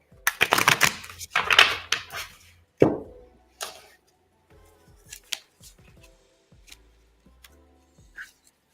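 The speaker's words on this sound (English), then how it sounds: "A couple of more decks to shuffle, and then we'll clear the energy." Tarot card decks being shuffled, giving bursts of quick papery riffling and flapping, then a few sharp isolated taps and slaps of cards settling in a quiet room with no talking.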